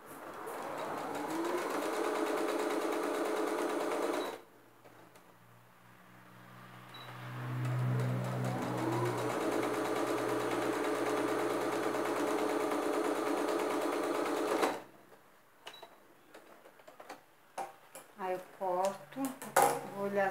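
Sewing machine stitching a cushion cover with a zipper: a close, steady mechanical whir in two long runs separated by a pause, followed by someone speaking Portuguese at the end.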